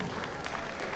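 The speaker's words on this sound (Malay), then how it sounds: "Berikan tepukan gemuruh" An audience at a state-level careers fair in Pahang gives a brief burst of applause, a fairly faint, even patter of many hands lasting about a second.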